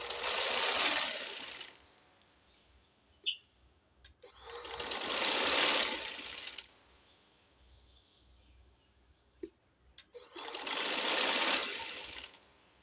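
A sewing machine stitches trouser fabric in three whirring runs of a few seconds each, separated by quiet pauses with faint clicks, heard close and fairly soft.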